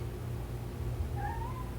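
A single faint cat meow rises near the end over a low, steady background hum.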